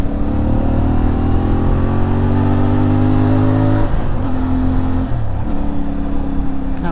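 A 2024 CFMoto 450MT motorcycle pulls uphill on half throttle to overtake. Its engine drones loud and close with a steady, slowly rising tone and a brief dip near the end, set against wind noise.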